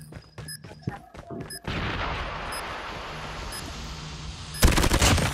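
Rapid gunfire from the Call of Duty Mobile shooter game: a burst of sharp shots, then a sustained loud crackling volley, ending in a louder close blast, with no talk.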